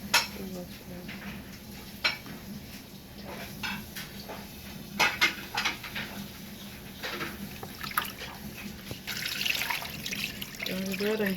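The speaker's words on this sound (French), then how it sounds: "Donc, je vais rincer mon poisson." Tap water running into a sink while a fish is rinsed and cleaned, with irregular splashes, knocks of pans and utensils, and a louder rush of water toward the end.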